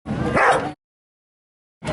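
A dog barks and yips in a single close, loud burst, followed by silence and the start of another bark at the end.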